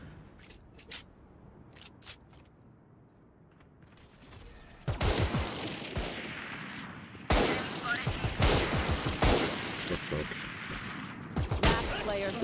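Rapid automatic gunfire bursts from a Valorant match, loud and close, with repeated sprays of shots in the second half over quieter game ambience and faint clicks earlier.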